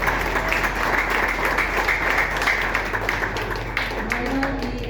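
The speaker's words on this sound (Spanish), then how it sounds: "Démosle un aplauso." A crowd at a book presentation claps steadily through a sustained round of applause, with scattered sharper claps and faint voices mixed in.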